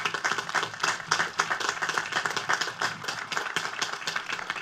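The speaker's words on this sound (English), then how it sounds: "Another round of applause for her," An audience claps for a student singer at a 2020 BFUHS high school graduation ceremony, a continuous, moderately loud patter of many hands with a slightly pulsing rhythm and no voices on top.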